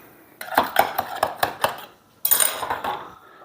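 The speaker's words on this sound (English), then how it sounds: "I'm going to take it out of the loaf pan" Baked butternut squash bread is knocked out of a metal loaf pan: a quick run of sharp metallic clanks and taps, a brief pause, then a louder rattling clatter of pan and utensil, close and without talk.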